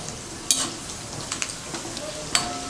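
Sago and potato papad fry in hot oil with a steady crackling sizzle, broken by a few sharper bursts of bubbling as pieces puff up.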